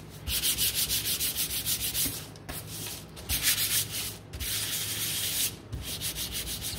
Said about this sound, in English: So I'm just gonna gently sand.